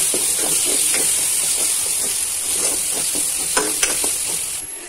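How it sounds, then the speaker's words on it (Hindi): Lentils are stirred into a hot tadka with turmeric. A loud, continuous hiss of steam and sizzle runs under repeated stirring scrapes, close up, with no talking. "अब ये दाल चला जाएगा, इसमें दाल दे दे रहे हैं"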